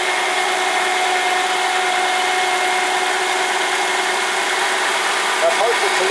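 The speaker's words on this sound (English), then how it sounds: "Give her a start, John, and let's make sure she starts up and that it's running good." Mercedes E320 engine idling after a new serpentine belt install, a steady close-up hum with a faint whining tone, continuous and even with no talk.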